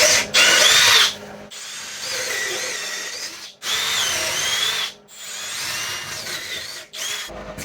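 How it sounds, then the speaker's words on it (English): Power drill boring holes in a dog crate during a makeover, several whirring bursts of a second or two each, separated by short pauses, close and loud. "so now I just go to those transfer marks and drill holes"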